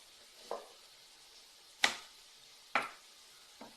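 Chicken gizzards being mixed by hand with blended garlic and spices, a few distinct wet slaps and squelches spaced about a second apart, close and clear with quiet between them.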